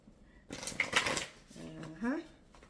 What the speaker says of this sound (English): So I try to shuffle them on my lap or close to my body.